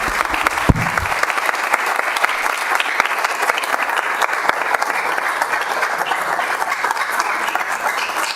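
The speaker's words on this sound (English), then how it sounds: "Let's have a round of applause for them." An audience at a city council meeting gives steady, sustained applause for the city fire department, a dense and even clapping that lasts throughout.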